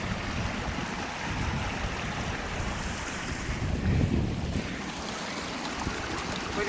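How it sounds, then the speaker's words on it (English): Creek water rushes steadily over a washed-out dirt road, a dense continuous roar mixed with wind noise on the microphone and no talking. "There's a waterfall in my road."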